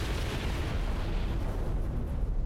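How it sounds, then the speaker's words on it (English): Explosion in the War Thunder combat game, a dense continuous low rumble filling the whole stretch at moderate level with no voices over it. "there's the explosion"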